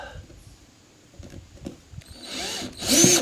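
A power drill backs a screw out of a ceiling panel inside a trailer, first a few faint taps and clicks, then two loud whirring bursts near the end, the last one the loudest.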